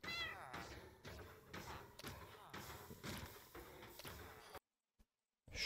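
A kitten meows in a hardcore Minecraft game, with several short, clear meows among in-game thumps and clicks before a brief near-silence, and a voice talking over part of it.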